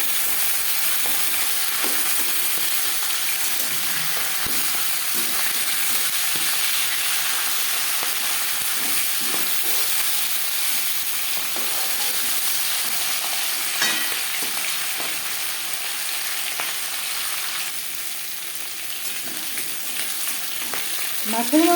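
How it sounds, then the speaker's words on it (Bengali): A katla fish head frying in hot oil, a steady close hiss and crackle of sizzling with occasional small pops and a clatter near the end. "মাছের মাথা একটা সাইড ভাজা হয়ে গেলে"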